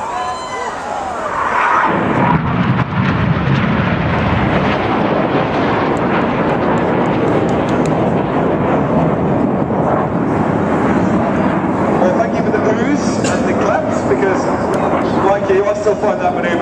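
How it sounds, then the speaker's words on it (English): Red Arrows jets flying the Jippo break as a four-ship formation trailing smoke, with a powerful roar swelling in after a quieter opening and holding loud and close, with crowd noise and voices beneath. "you'll see the headlights and smoke of Jippo formation as they fly their last manoeuvre as a four-ship together"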